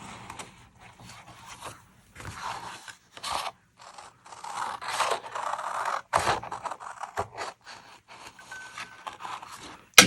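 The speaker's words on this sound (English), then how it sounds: "don't rotate your scissors, just keep cutting slow and rotate the cardstock" Scissors snip and crunch through stiff cardstock in slow, irregular cuts with scraping between strokes, close up, with short pauses and no talking.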